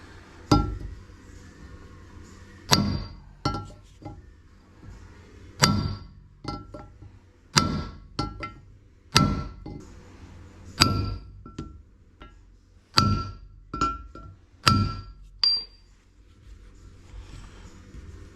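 Sharp metallic hammer strikes ring out in irregular clusters, each blow a bright clang with a short decay, close by and with no talking, as metal is hammered flat while fitting studs to an A-Series engine.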